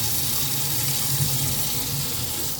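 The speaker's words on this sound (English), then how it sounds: "we're just going to let the hot water run out again" Hot water runs steadily from a household tap in a house with a rotten-egg smell. It makes a continuous, close, broadband rush with no talk.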